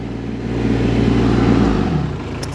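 TYM 224 sub-compact tractor engine revving up, a steady close mid-range drone with strong low harmonics that shifts pitch upward near the end, running alone without talk.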